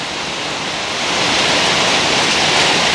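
A heavy downpour roars in a constant wash of noise, swelling slightly louder partway through, close and unbroken, with nobody speaking.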